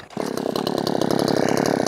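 A Poulan 4620 chainsaw runs loud and close after starting, its engine settling into a rapid, buzzing, pulsing drone for a couple of seconds.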